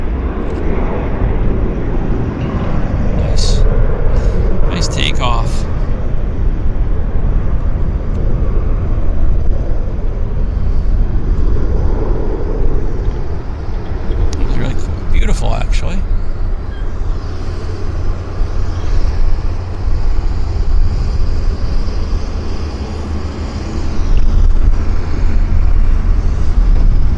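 An airplane takes off at Vancouver International Airport (YVR), viewed from the South Terminal viewing platform, its engine roar a steady, loud broadband rumble lasting throughout, with brief higher whines and clatter mixed in.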